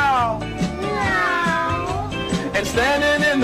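A cat meows repeatedly in a sing-along children's song setting, drawn-out wavering cries over light musical backing, loud and close.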